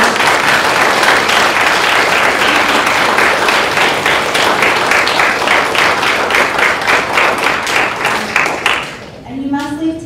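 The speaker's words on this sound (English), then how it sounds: "give a round of applause to these folks right here" A senior AVID class at a high school event gives a loud, sustained round of applause, dense clapping that fills the room before fading out near the end.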